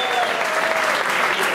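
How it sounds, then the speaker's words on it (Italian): Loud, steady crowd applause at the Livorno Music Awards electronic dance prize, a continuous wash of many hands clapping close by throughout. "un progetto straordinario, un applauso"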